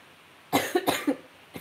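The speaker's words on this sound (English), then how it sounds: "Sorry if I'm coughing." A few close, harsh coughs in a quick burst, then a short pause and one more softer cough at the end.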